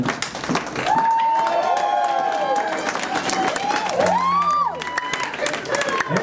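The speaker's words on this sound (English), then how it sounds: "All the applause is for her." An audience applauds a hypnosis show volunteer at a Halloween party, steady clapping and cheering running throughout, mixed with raised voices and some whooping.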